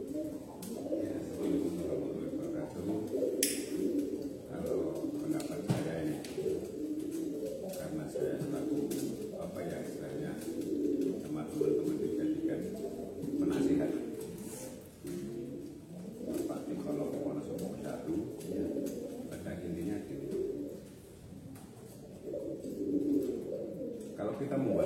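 Pigeons coo in a low, continuous murmur inside a breeder's loft, close and steady for the whole stretch, with a few soft overlapping calls.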